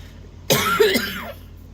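A single sharp, close cough with a throaty rasp, bursting abruptly out of quiet and trailing off within about a second.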